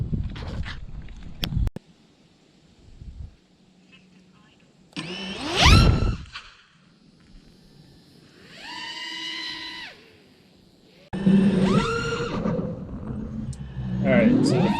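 A Karearea 2207 FPV quadcopter drone with a Hobby Wing 45 amp 4-in-1 ESC flies, its motors whining in loud bursts that rise and fall in pitch and trail off between passes, with wind noise in the quieter gaps.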